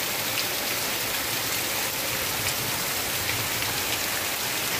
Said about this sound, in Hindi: देखे ना कितनी तेज बारिश हो रही है।